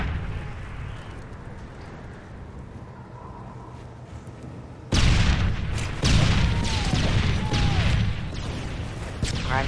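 A grenade goes off with a loud sudden boom midway through a video game capture-the-flag match, after a stretch of quieter game ambience, and the rumbling blast tail carries on to the end.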